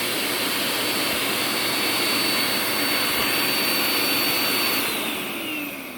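Nacecare RSV 130 vacuum cleaner running during an airflow test, its motor roaring loudly and steadily with a high whine, then easing slightly near the end.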